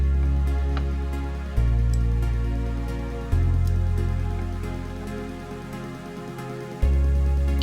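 A synth bass in Ableton Live holds long sustained notes, dropping from one pitch to lower ones over a couple of bars, each note swelling loudly and slowly fading, with soft patter and texture above and no talking.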